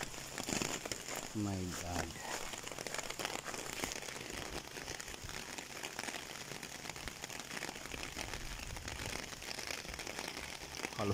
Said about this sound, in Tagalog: Grabe yung ulan dito eh.